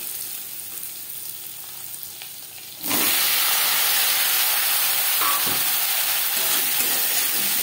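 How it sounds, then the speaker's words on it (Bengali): Cut potato pieces hit hot oil with whole cumin for a Bengali fish curry, a quiet hiss erupting into a loud, steady, close sizzle that continues with faint stirring knocks. "দশ 15 সেকেন্ড জিরে ভেজে নেওয়ার পর দিয়ে দেব টুকরো করে কেটে রাখা আলু"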